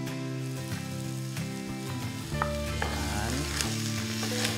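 Onions sweating gently in a pan with garlic, giving a steady soft sizzle that runs under background music, with one brief spoken word.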